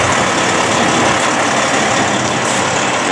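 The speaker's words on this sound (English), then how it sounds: "Station one, this is our ladder truck." A fire department ladder truck, a big rig with a 105-foot ladder, idles at the station with a steady, loud diesel rumble that holds throughout without a break.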